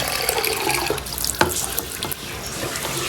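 Hot water running steadily from a tap in a bathroom, a continuous splashing flow with a few sharper splashes, close and fairly loud throughout.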